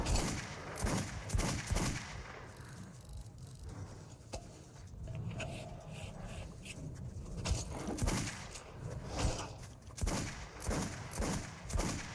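Pistol gunfire from the Metro 2033 Redux video game, in the Dead City level, with repeated sharp loud shots in quick bursts and clusters spread across the whole stretch, mixed with heavy thumps and a dense, rumbling game soundscape.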